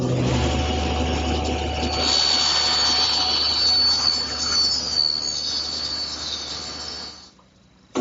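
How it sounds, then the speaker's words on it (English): A table saw rips the excess strip off the bottom edge of a wooden molding, a loud steady whining drone under the cut that runs for several seconds, then stops as the blade spins down. "Next, I want to rip off this excess that's left at the bottom edge of the molding."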